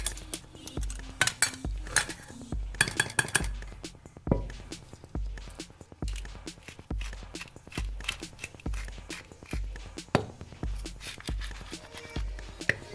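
Honey mustard dressing of oil and mustard whisked in a bowl, a steady run of rhythmic metal clinks and scrapes against the bowl, close and fairly loud, with no talking.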